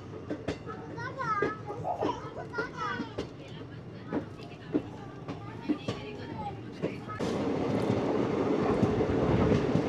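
A passenger train rounding a bend on its way toward Badarpur. Children and adults chatter nearby over a faint rolling clatter, and then a louder, close wash of rushing track noise swells and stays for the last few seconds.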